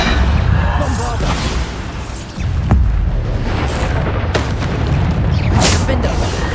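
A Bombarda explosion spell bursts with a loud, booming blast in Hogwarts Legacy, layered into a dense, continuous din of combat effects with a voice heard throughout.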